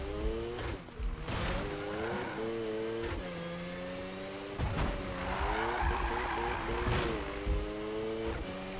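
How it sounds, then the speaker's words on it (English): A Mazda RX7 in Need for Speed 2015, its engine note climbing and dropping through several gear changes, each shift marked by a brief mechanical clunk over constant engine drone and some tyre noise. "That's a big clunk now when it changes gears, though."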